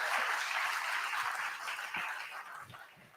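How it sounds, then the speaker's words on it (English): Applause from an audience at a digital forum conference, a steady wash of clapping that slowly tapers off over about three seconds. "So, an applause to our"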